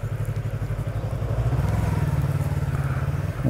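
A motorcycle idling and rolling slowly toward a parking spot on a city street, its low throbbing engine pulse close and continuous, rising slightly in level partway through.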